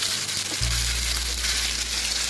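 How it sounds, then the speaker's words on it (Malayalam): Chicken pieces dropped into a pan of hot sunflower oil and melted butter, a sudden loud, steady sizzle that starts after a brief quiet moment and holds evenly to the end. "ഇനി ഇതിലേക്ക് ചിക്കൻ പീസസ് ഫ്രൈ ചെയ്യാൻ വേണ്ടി ആഡ് ചെയ്ത് കൊടുക്കാം"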